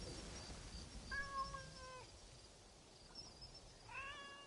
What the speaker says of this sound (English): The cat sounds like he or she wants food.